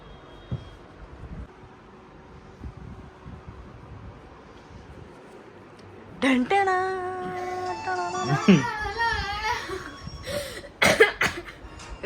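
A person coughs indoors, a harsh burst of several rough coughs midway after a quiet stretch, followed by voices and more throat sounds.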